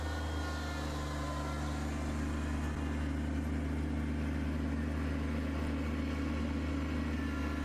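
A snow blower engine runs at a steady, even drone with a constant low hum, heard close and moderately quiet with no change in speed and no voices.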